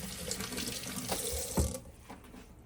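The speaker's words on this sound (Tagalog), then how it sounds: "Hugasan muna natin yung sili." Chili peppers rinsed under a running kitchen tap while cooking squid adobo, a steady broadband splash of water that cuts off partway through, leaving a quiet kitchen.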